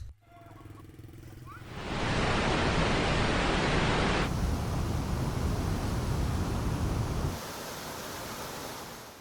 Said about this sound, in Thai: นี่เป็นน้ำตกตาดคอนผาเพงที่มีชื่อเสียงอยู่แค่แม่น้ำของ